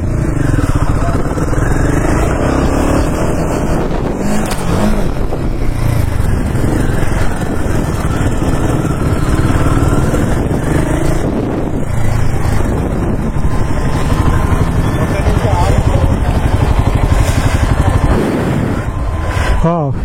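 Royal Enfield Himalayan 450 motorcycle running on a track, a steady loud engine drone with continuous wind buffeting over the microphone, and a voice talking over it.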